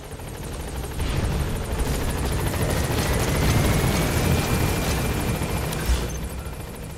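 Pequod helicopter in Metal Gear Solid V arriving at a landing zone, rotor thrumming loud and continuous with a steady whine, swelling then easing slightly near the end.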